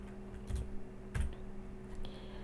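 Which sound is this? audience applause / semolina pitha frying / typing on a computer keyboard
typing on a computer keyboard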